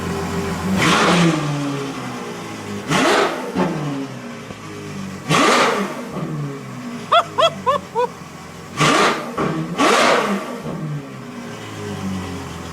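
A loud straight-piped Ferrari F12 engine revs hard in repeated bursts, each roaring up and then dropping away, with crackling pops in the middle.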